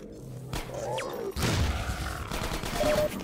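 Sniper gunfire in the video game Half-Life 2: Episode 1, a loud burst of sharp shots and rumbling impacts starting mid-clip over game ambience, with a brief thump earlier.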